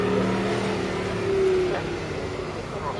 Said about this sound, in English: And still wearing prototype disguise, but with a 5-litre V8.